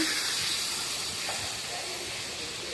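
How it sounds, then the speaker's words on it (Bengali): Magur catfish pieces dropped into hot oil in a wok hiss loudly and evenly, a dense close sizzle that holds steady for a few seconds. "দেখো, মাগুর মাছ আমি ছেড়ে দিয়েছি কড়াতে।"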